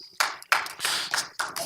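Audience at a Dallas mayoral runoff forum giving a few short bursts of hand clapping, scattered and uneven, each burst starting sharply and fading within a fraction of a second.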